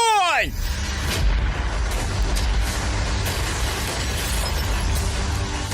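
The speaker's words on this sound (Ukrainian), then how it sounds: "Готуйте гармати!" A loud boom and crash of cannon fire, followed by a long rumbling, noisy wash of debris and echo.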